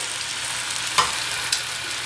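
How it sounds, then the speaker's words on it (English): Fish fillets sizzle in a pan as a faint, steady frying hiss, with two brief crackles rising above it. "That wasn't a super satisfying sizzle"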